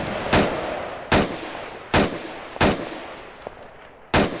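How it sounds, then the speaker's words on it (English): Five separate gunshots from the video game ARMA 3 crack out one at a time at uneven intervals, each a sharp loud report with a short decaying tail, without talk. "Just going to put some shots down there"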